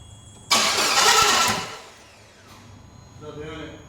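A 2006 Suzuki Forenza engine cranks loudly for about a second, trying to start, then fades to a low rumble before a faint rhythmic whirring returns; voices are present nearby.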